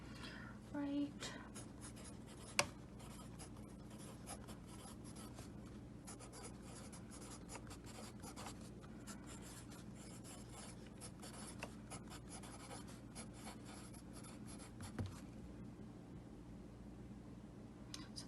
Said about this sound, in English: that's what I'm writing